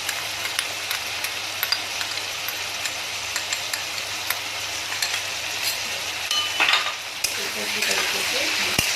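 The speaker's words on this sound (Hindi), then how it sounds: "अच्छी तरीके से मिक्स करेंगे।" Spiced potato and pointed gourd dry curry being stirred in a hot pan, with a steady close sizzle and light scraping and clinking of the spatula against the metal.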